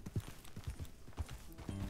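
Horse hooves clip-clopping in Red Dead Redemption, a few soft, uneven thuds close by over a quiet background, followed by a brief low tonal sound at the end.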